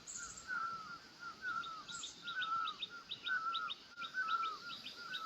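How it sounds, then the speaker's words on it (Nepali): An Asian koel calls across village farm fields, giving faint, repeated rising calls in a regular rhythm with quick higher chirps between them, heard at a distance over quiet rural background. "कोइली कराएको सुन्नु भएन नि कोइली"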